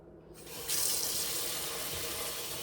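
Tap water running steadily from a faucet into a sink over dried beans being rinsed, a close, continuous splashing hiss that swells to full flow after a quiet start.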